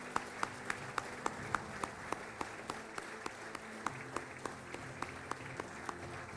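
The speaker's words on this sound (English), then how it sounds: "A great round of applause" An audience at an evening event honoring a legend claps steadily, a moderate wash of applause with a few louder individual claps standing out at a regular pace throughout.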